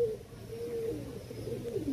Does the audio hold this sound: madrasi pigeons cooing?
yes